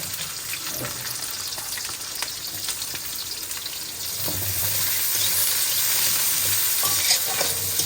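Cumin seeds and onion frying in oil, a loud continuous sizzle with scraping stirs, building louder and denser midway as the onion hits the pan, close and steady without talk.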